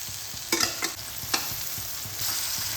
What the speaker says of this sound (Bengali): মশলার সঙ্গে ভালোভাবে চিচিঙ্গেটা মিশিয়ে নেব